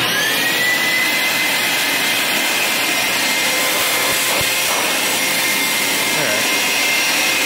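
A wall-mounted garage vacuum cleaner runs steadily after being switched on, a loud, constant high-pitched whine and airflow roar with a few faint knocks.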